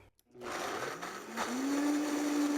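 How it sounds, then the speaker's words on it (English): A blender whirs steadily as it blends melted butter, olive oil and vanilla extract, starting with a brief clunk and rising quickly to a constant, close, loud motor whine. "And then blend until smooth"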